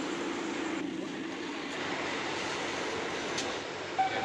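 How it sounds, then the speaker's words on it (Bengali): A passenger train pulls into a busy railway station, making a steady, loud, continuous rumble and roar of moving cars with faint background voices. "চলো, আমাদের ট্রেন ঢুকে গেছে"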